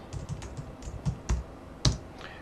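Keys tapped on a computer keyboard to enter Control shortcuts, about eight distinct clicks in an uneven rhythm, close and clear with the last strokes hit hardest.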